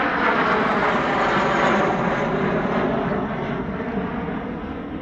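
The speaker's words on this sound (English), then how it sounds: "100 Squadron Royal Australian Air Force's English Electric Canberra TT-18" The Royal Australian Air Force 100 Squadron English Electric Canberra TT-18 jet flying at an airshow, a loud, close, sustained jet roar that slowly fades as it passes, with no talk.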